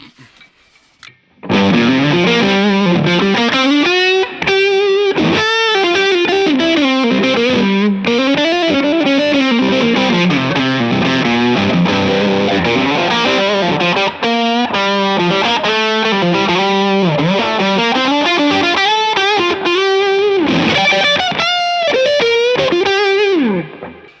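Electric guitar boosted by a J. Rockett HRM V2 pedal pushing the amp's front end, overdriven, plays a long, busy lead line with bends and fast runs, loud and continuous for over twenty seconds.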